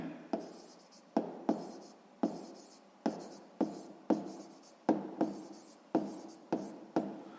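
Pen strokes scratch across a notebook page during a sixth-grade maths exercise, a steady series of about a dozen short, sharp scrapes evenly spaced, close and quiet.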